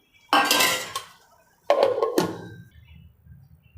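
Two loud, close bursts of rough crunching and scraping come from a vessel as cut pineapple for homemade jam is crushed, each lasting about a second, with quieter clinks trailing off afterward.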